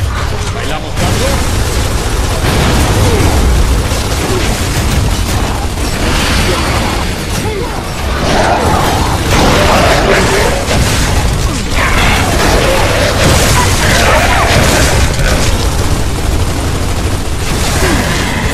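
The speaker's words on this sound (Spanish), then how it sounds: "¡Lanzando granada!" A grenade explodes during loud Gears of War 3 campaign combat, with booms and bursts mixed into continuous gunfire and mechanical clatter. Voices speak over parts of the noise.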